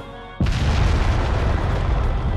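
A single loud gunpowder blast set off by Mieu's fire in Tales of the Abyss, a sudden close boom that cuts in over a soft tone and rolls on as a dense roar.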